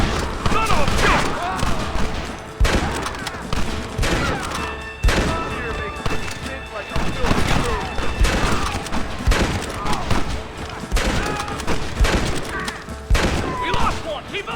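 Gunfire in a battle against the United States Army in Red Dead Redemption, with repeated rifle and pistol shots and booms cracking in irregular bursts and mixing with shouting voices throughout.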